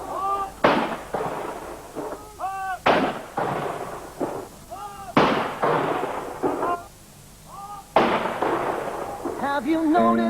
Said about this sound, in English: the 2nd 15th Field Regiment fired a 21-gun salute on the banks of the Yarra